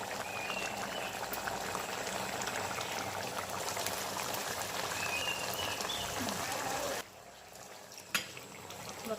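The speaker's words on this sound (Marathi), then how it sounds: "ह्याला आपण एक चांगली उकळी काढून घ्यायची शिजेपर्यंत" A thin country chicken curry boils hard in a pot, giving a steady, close bubbling and simmering that drops away abruptly near the end, with a brief clink after.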